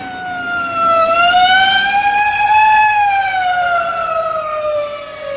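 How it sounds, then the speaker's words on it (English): Police car siren in a 1957 film, a loud wailing tone that rises and falls slowly, close by and sustained across the whole stretch with no talking. "Hey, a police car."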